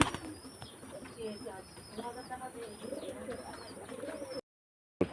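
Pigeons coo softly in repeated low phrases against a faint background hiss, with a voice faintly heard and a brief silent gap near the end.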